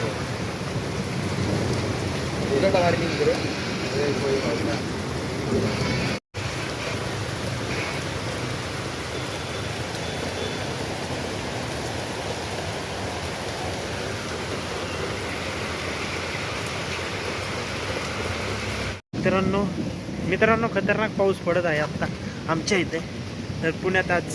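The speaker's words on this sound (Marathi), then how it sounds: "पाऊस तर इतका जोरात चाललाय ना एकदम खतरनाक" Heavy summer rain pours down in a dense, constant roar. Near the end, voices can be heard talking over the downpour.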